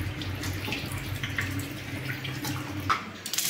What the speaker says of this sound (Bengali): রাঙা আলুগুলোকে, যেহেতু রাঙা আলুতে মাটি থাকে, ওই জন্য আমি খুব ভালোভাবে এগুলোকে ধুয়ে নিচ্ছি